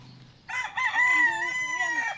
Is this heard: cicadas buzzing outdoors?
no